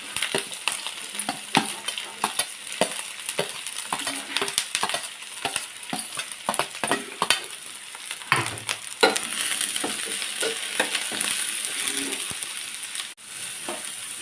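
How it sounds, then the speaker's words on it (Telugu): Onions fry in hot oil with a busy, crackling sizzle and frequent spatula scrapes and taps against the pan. The sizzle swells louder and steadier partway through. "ఉల్లిపాయలు వేసి వేయించుకుందాం"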